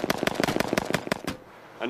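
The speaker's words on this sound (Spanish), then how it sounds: "Un proyectil AK-47 impactará sobre el vehículo con una potencia determinada." Rapid AK-47 rifle fire strikes an armored vehicle, a burst of about ten sharp cracks in quick succession that then stops abruptly, followed by a brief pause and a faint noise at the end.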